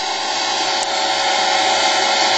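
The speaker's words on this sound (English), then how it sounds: "there's the air compressor making noise" An air compressor runs nearby with a loud, steady, hissing motor drone that holds unchanged throughout, with no voices over it.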